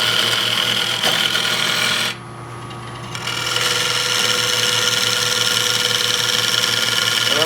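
Bowl gouge cutting a wooden bowl on a lathe: a steady, loud scraping hiss with a constant motor hum, broken by a brief quieter pause near the middle before the cut resumes.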